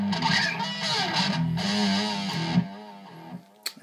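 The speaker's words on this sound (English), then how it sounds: "Just a taste of that distortion." BC Rich NJ Series Mockingbird electric guitar played through distortion, a sustained saturated chord and notes ringing out, then fading into a few faint pick and string noises at the end.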